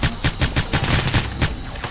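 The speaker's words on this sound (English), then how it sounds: "I'm getting shot at like a lot." Video game gunfire in a heist-style shootout, loud rapid shots fired in quick uneven bursts close up, with no talking over them.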